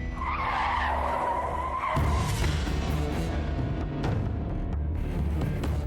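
A car brakes hard with a long tire screech that cuts into a rough skidding rumble, loud and close, with no talk.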